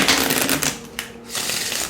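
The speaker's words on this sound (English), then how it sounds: "I want to see how it riffle shuffles." An oracle card deck riffle shuffled by hand, a quick rapid fluttering burst of cards, then a brief pause and a second shorter ruffle, close and clear with no talking.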